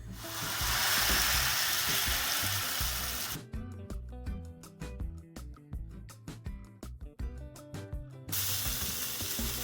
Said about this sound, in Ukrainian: Смажаться млинці доволі швидко.